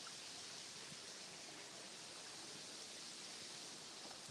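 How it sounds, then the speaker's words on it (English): Steady broadband rush of falling water at a waterfall on a countryside walk, continuous and fairly even throughout with no voices over it. "Have a look around at the waterfall."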